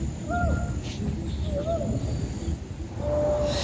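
Birds call in a dense forest, a few short whistled and warbling notes scattered over a steady hiss of insects and ambient noise, with a longer thin whistle near the end.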